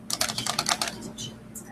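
Computer keyboard typing in an office setting, a quick burst of about a dozen crisp, close keystrokes in an uneven rhythm, followed by a couple of softer taps after a short pause, with a faint room hum underneath.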